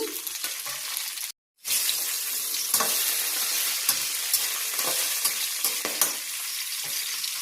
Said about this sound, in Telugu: ఆయిల్ వేడెక్కింది కదా మంచిగా ఎర్రగా వేయించుకోవాలి